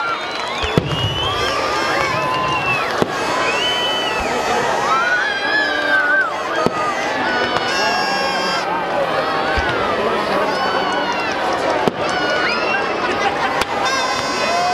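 Sharp New Year 2017 firework pops and bangs crack at irregular intervals over a noisy crowd in Frutillar shouting and cheering throughout.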